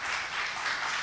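Dense, steady applause from a conference audience at a session on legislation, regulation and ethics, a continuous even wash of many hands clapping with no pauses.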